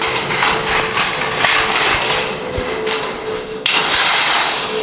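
A 1/4 inch screen insert drops into a homemade tumbler compost sifting trommel, giving a sharp metallic clatter near the end of a steady, loud mechanical din that has a few light knocks. No one speaks.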